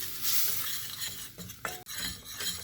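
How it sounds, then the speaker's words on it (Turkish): A utensil scrapes and stirs steadily in a pot as a tablespoon of flour toasts in butter for chicken soup, over a soft sizzle, with occasional metallic clinks against the sides. "Unun kokusu çıkana kadar biraz kavuralım."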